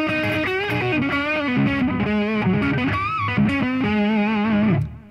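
Electric guitar riffs from a Gibson Custom with EMG 81 and 85 active pickups through a tube amp, with a driven, effected tone, played close and loud with no voices.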